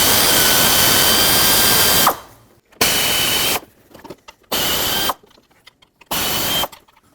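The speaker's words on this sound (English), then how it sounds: "I'm just going to use an air ratchet." Air ratchet loosening fuel injector bolts on a 1998-2011 Ford Ranger 4.0L V6, four loud close bursts of pneumatic whirring separated by short pauses, with faint rattling in the gaps.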